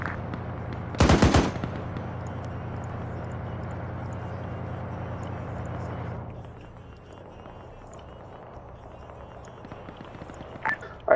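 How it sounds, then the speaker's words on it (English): Arma 3 gunfire: a short, loud burst of rapid automatic shots near the start, then a steady engine-like drone that drops away, and a few faint, distant pops near the end. "I hear a lot of gunshots"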